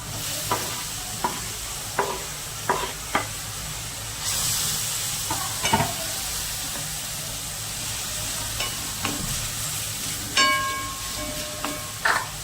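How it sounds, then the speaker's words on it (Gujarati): Tomatoes sizzle and fry in a pan for a Kathiyawadi gathiya curry, a steady hiss with repeated sharp scrapes and knocks of stirring throughout, close and clear with no voices. "હવે નાખી દેવાના છે ટમેટા।"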